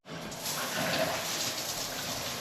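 Shower water runs from the tap in a steady, even hiss that starts abruptly and continues without a break, close and moderately loud.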